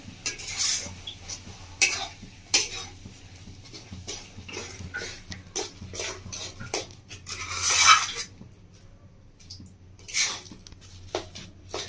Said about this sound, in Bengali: রেখে আমি এভাবে নাড়তে থাকবো।